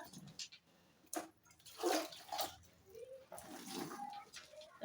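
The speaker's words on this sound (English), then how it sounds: "Then I will continue adding my water." Water poured bit by bit into a homemade liquid soap mixture while stirring, with splashing and sloshing bursts over a murky background and faint music.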